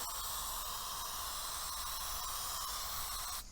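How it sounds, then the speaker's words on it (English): Aerosol fixative sprays lightly back and forth over a charcoal drawing, giving a steady, close, continuous hiss that lasts several seconds and cuts off at the end, with no talk. "and just do a light spray"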